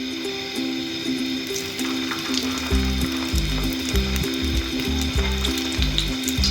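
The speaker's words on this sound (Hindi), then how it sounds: "अब हम इसमें टिक्कियाँ डालेंगे अंडे के साथ लगाकर।" Egg-coated aloo tikki frying in hot ghee on a griddle, a constant close sizzle with a rhythmic low mechanical thumping running underneath.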